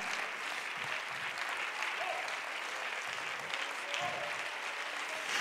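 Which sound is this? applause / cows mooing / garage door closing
applause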